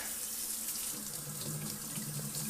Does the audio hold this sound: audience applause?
no